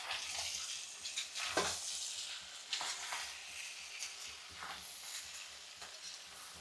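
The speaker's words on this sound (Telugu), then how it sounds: "పచ్చి మసాలా వాసన పోయేంత దాకా బాగా ఆయిల్లో వేపుకోవాలన్నమాట." Chicken masala frying in oil while being stirred, giving a steady close sizzle with irregular scraping strokes and brief louder bursts throughout.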